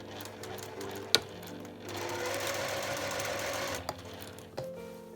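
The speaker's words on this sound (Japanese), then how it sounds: "そうしたらここの部分を7ミリで縫っていきます。" A sewing machine stitches fabric for a shoulder bag with a caramel-style base, running in a steady buzzing rhythm at close range. It starts and stops with a few sharp clicks and is heard alone.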